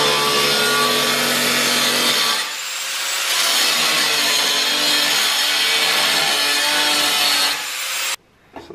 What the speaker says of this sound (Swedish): Hämta vinkelslipen och så bränner vi ur skiten